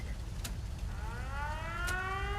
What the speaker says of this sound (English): We've got a siren.